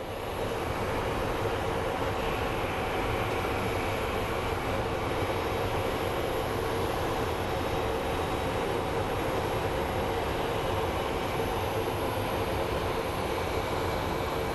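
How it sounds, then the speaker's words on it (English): A United Airlines Boeing 737-800 from Chicago at Phoenix Sky Harbor International Airport, a continuous heavy jet engine roar, loud and steady, without speech. "So we have a United Airlines 737 800 series that is coming from Chicago."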